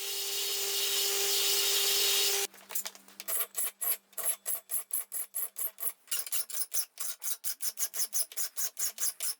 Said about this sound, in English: any bits I couldn't get to, I just used my files